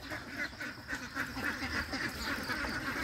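Ducks quack close by in a steady run of repeated nasal calls, several birds overlapping over a low background rumble.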